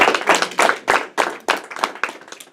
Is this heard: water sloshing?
no